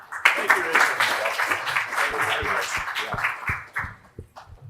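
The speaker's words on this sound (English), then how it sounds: "Let's give him a round of applause and welcome him to the stage." Audience applause welcoming a panel moderator to the stage at a private investor panel, a burst of clapping that starts strong and gradually thins out, with a voice speaking over it.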